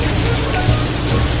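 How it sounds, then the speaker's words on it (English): Heavy rain pouring down in Kuala Lumpur, Malaysia, a dense, continuous hiss, loud and close, with no pauses. "it's pouring down with rain"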